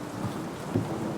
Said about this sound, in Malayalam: നല്ല മഴയാ